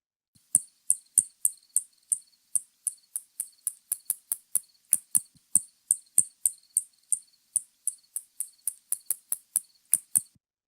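Spotted bat echolocation calls recorded at night come as a long run of sharp, high, clicky chirps, about three per second at a slightly uneven pace, crisp and isolated against near silence.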